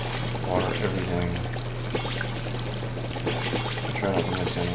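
Water pouring from a watering can onto crops in the farming video game Palia, a continuous splashing stream heard under a steady low hum, with a person talking over it.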